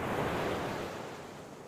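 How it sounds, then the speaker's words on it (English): Water rushes and surges in a single swelling wash, like sea waves crashing back together, starting loud and fading away over a couple of seconds with no voices. "the walls of water rushed back together"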